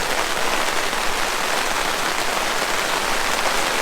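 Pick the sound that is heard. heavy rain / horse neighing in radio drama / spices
heavy rain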